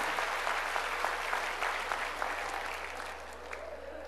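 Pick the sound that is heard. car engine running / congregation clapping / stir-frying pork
congregation clapping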